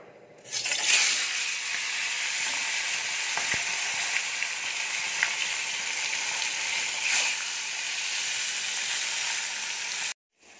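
Small carp hit hot oil and break into a loud, steady hiss that runs for about nine seconds, then cuts off sharply, with faint crackles scattered through it.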